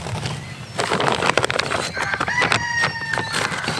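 Chickens and a rooster cluck and squawk close by in a backyard potato garden, with busy overlapping calls and a brief crow-like cry, no talking.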